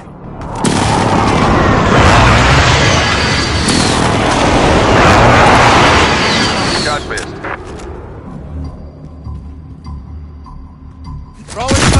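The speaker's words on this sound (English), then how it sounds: "Airstrike." An airstrike in the Warzone video game, a long, loud, rumbling barrage of booming explosions that fades into a quieter tail with distant crackles, and game voices speaking over it.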